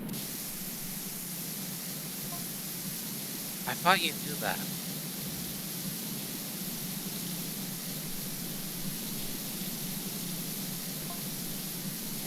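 Pressure-washer spray guns in the PowerWash Simulator 2 video game give a steady, even hiss throughout, with a voice briefly talking over it.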